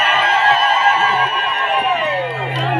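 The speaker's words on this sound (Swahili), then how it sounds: "Ongeza makofi na vigelegele." A crowd welcoming a bishop in Shinyanga breaks into loud, close ululation, with high trilling voices rising and falling over dense clapping and excited chatter.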